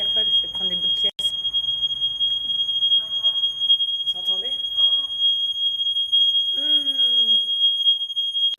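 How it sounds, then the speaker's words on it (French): A building alarm sounds during a test as a constant piercing high tone that runs unbroken throughout, while someone speaks and shouts over it in bursts. "Ça fait 10 minutes qu'il y a l'alarme."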